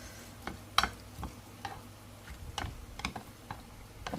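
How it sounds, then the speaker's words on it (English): A knife chops fresh cilantro on a board for mahi mahi fish tacos, soft irregular taps close by at a quiet level, with no talk. "So I'm going to just add some cilantro in here and cut it up."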